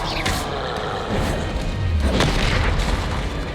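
A Confringo spell explodes in the video game Hogwarts Legacy, a heavy booming blast with a low rumbling tail that fills the whole moment, with no talk over it.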